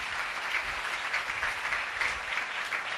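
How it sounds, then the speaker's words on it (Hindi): A church congregation claps loudly and steadily during a Punjabi-Hindi worship service, with dense, continuous applause throughout and no talk over it. "तालियां बजाओ।"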